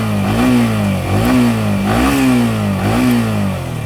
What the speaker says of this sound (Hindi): ये R15 V4 का गाइज़ एग्जॉस्ट साउंड है।